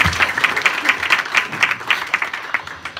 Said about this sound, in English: Please, you can clap here.